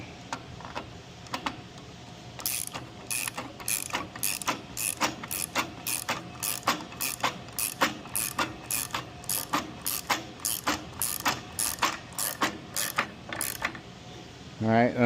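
Nuts being tightened on an Atlas AT250 trap throwing arm, giving a long run of rapid, evenly spaced ratchet clicks in close, loud bursts, with a brief metallic sound at the end and no talking.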